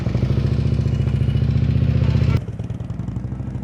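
A motorcycle engine runs at low, slow riding speed with a steady throbbing pulse, held on the throttle, then drops to a softer, lower rumble partway through.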